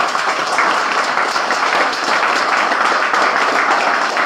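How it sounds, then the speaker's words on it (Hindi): A class audience claps loudly and continuously, a dense, even roar of applause filling the room from start to finish. "एक बार जोरदार ताली आगमन के लिए"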